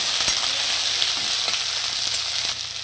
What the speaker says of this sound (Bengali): ঢাকা খুলে আমি এটা আরেকবার নেড়ে নেব আর দেখব কতটা ভাজা হয়েছে।